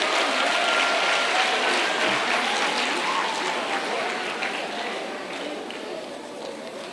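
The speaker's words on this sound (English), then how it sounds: "Let's clap for the pace setters one last time." Broad applause at a Girl Guides centenary celebration thanks the pace setters, a thick, sustained clapping from a crowd with voices mixed in, gradually fading over several seconds.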